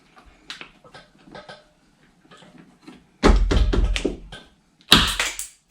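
A series of sharp plastic snaps and clicks, a few faint pops followed by two loud cracking bursts as door panel clips pull free from a Nissan NV200 van door, close up.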